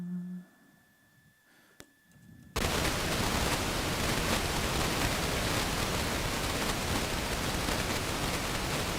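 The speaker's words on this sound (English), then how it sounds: "I also have a noise module, so it outputs just noise." Synthesizer noise module at a live electronic music workshop putting out loud, steady white noise that starts abruptly after a couple of seconds of quiet room sound and then holds constant.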